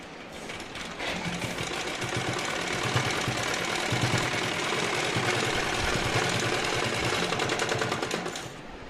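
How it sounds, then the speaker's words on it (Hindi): A sewing machine stitches across the belt of a salwar at its base, running as a steady close mechanical whir for about eight seconds with a low rhythmic thump, starting and stopping cleanly and with no talking. "बेल्ट के ऊपर भी सिलाई मार लगा दें यहाँ पे जड़ में।"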